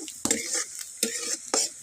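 Onions, green chillies and curry leaves fry with panch phoron in a pan, a steady sizzle broken by three quick scraping stir strokes.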